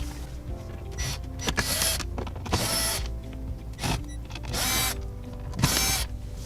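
Screws being backed out of the dashboard trim panels on an Infiniti G37 around the glove box, heard as several short, whirring bursts from a powered driver separated by brief pauses, close and fairly loud with no talking.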